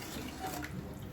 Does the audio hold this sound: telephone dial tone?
no